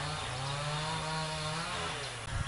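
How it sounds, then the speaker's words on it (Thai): A neighbour's chainsaw cuts through trees to clear land, a steady, loud droning buzz that holds without a break from start to finish, with no voices over it. "เช้านี้มีเสียงเครื่องตัดหญ้านะคะเอ้ยไม่ใช่เครื่องตัดไม้ เพราะว่าเหมือน เอเพื่อนบ้านเขาจะแบบตัดต้นไม้เคลียร์พื้นที่"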